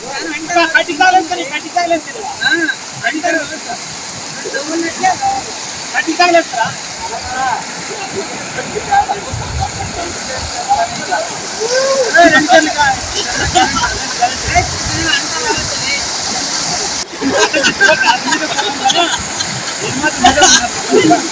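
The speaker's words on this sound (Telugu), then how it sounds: "మూడు రోజులుగా కురుస్తున్న వానలకు వాగులు వంకలు పొంగి" Overflowing streams rush and churn with a loud, continuous watery roar after days of heavy rain in Anantapur district, while a voice talks throughout.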